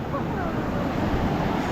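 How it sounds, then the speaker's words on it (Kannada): Big ocean waves rolling in at Majali beach, a broad continuous roar of surf mixed with wind buffeting the microphone, loud and close. "ಸಿಕ್ಕಾಪಟ್ಟೆ ದೊಡ್ಡ ಅಲೆಗಳು ಬರ್ತಾ ಇದೆ"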